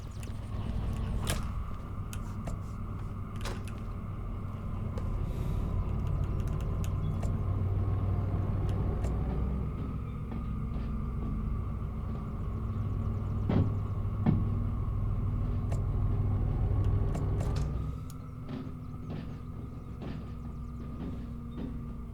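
A DE6 diesel locomotive in Derail Valley pushing cars: a steady low engine rumble and drone with faint clanks and knocks continues for about eighteen seconds, then drops to a quieter idle.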